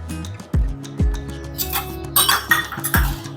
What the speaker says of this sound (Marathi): एक मी हे घेतलेलं आहे ताट घेतलेलं आहे आणि ते त्याच्यावरती गच्च बसवायचं